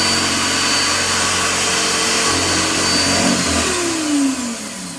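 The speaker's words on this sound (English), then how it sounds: "when I pull the handle, the clamp comes down to clamp onto the wood. It holds it in place, and at the same time this drill bit comes up and drills." Kreg jig pocket hole drill running as its clamp closes and the bit bores into a board, a loud sustained motor whine that winds down at the end.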